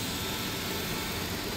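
A car engine idles steadily in good condition, a smooth, even hum with no knocking or shaking, close and continuous throughout this short moment.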